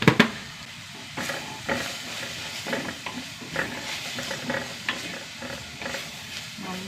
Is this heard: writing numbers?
no